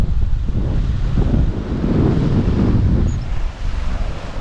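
Ocean waves roll onto the beach at Santa Clara Playa on Mexico's Yucatan Peninsula, a loud, continuous surf roar heavily mixed with close wind buffeting the microphone, with no voices.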